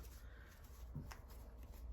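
Tarot cards being shuffled by hand during a card reading, a soft, quiet papery riffle with a brief sharper snap near the middle, close and alone.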